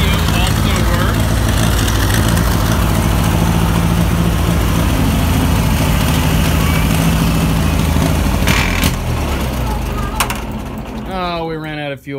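Tractor engine running at a steady, loud idle with a rough low-pitched drone, close by, then it sputters and dies out as the fuel runs dry near the end.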